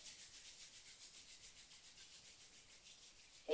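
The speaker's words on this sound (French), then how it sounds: "On va frotter les mains fort, fort, fort, fort, fort." Hands rubbed together hard and fast during a children's yoga session, a steady run of rhythmic rasping swishes alone and close, ending with a brief louder sound.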